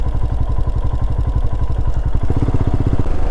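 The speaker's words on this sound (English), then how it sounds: "Oh, you don't like the sound of motorbikes," Motorbike engine running on Dartmoor, a close, steady mid-pitched thrum with rapid rhythmic firing pulses and some mechanical clatter, heard alone.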